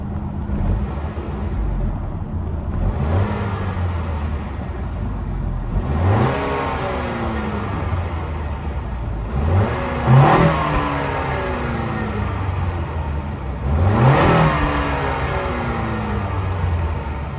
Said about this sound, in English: that was of course the sound of the 2-liter turbo sold by Honda for this Accord Touring